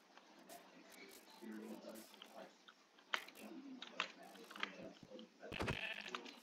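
Soft sheep bleats from Minecraft Bedrock Edition come and go beneath steady talking, with a few clicks and a brief louder burst near the end.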